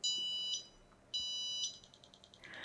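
Two high electronic beeps from an impact and tilt sensor warning system sound in quick succession, each a steady piercing tone about half a second long, followed by a short faint stutter.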